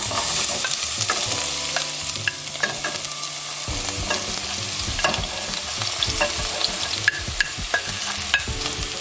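Ingredients for Jamaican salt mackerel run down sizzle while being sautéed in vegetable oil on a stove set to medium low, giving steady frying crackle, repeated stirring scrapes and clinks, and no talking.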